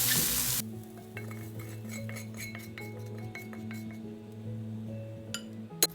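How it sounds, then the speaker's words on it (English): Mushrooms sautéing in a pan for a chicken casserole, a quiet steady sizzle with a low hum beneath and light clinks of a utensil against the pan, ending on a sharper knock. "we'll let this saute for 1 or 2 minutes more"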